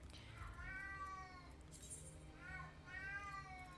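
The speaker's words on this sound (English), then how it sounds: "the cats decided that as soon as I went live, it was time to scream" Pet cats meowing and yowling indoors, two or three drawn-out, rising cries spaced a second or so apart over a low background hum, moderately faint and somewhat distant.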